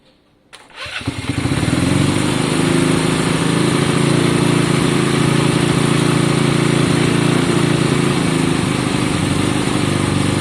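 A Honda CB200 motorcycle engine catches after a quiet moment and settles into a loud, steady, close idle as it warms up, running alone without speech.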